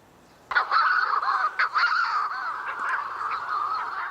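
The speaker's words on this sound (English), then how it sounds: "that's actually a Manx shearwater" Eerie, strained Manx shearwater calls repeat over a few seconds, harsh crowing and cackling notes rising and falling, fairly close with no talking.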